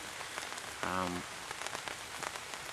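Steady rain patters on a wild camp overnight, a hammock and bushcraft setup in the woods, a dense continuous hiss of drops hitting surfaces throughout, with a brief tonal sound rising out of it near the one-second mark.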